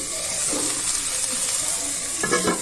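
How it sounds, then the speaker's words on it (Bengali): Potatoes with salt sizzle and fry in a pan while being stirred, a steady close hiss with scraping stir strokes near the end. "আলু নুন দিয়ে কষছি"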